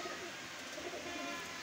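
Pigeons coo softly and steadily in a loft of highflyer and breeder birds in Lahore, a low murmuring drone that runs nearly level under a faint background hiss.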